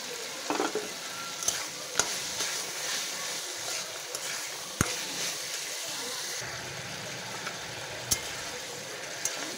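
Fried potatoes and lentil bori go into spice masala in a pan for a Malabar spinach dish. A continuous moderate sizzle plays throughout, punctuated by a few sharp clicks of a spoon against the pan, close and alone.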